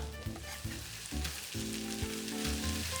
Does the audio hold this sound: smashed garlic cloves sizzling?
yes